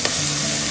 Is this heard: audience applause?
no